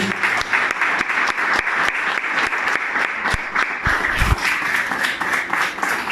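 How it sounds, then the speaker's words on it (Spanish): A church congregation applauds at a Spanish-language service, with dense, steady clapping from many hands that fills the whole stretch at close, loud range, mixed with some sharp individual claps. "Dale un aplauso a Jesús."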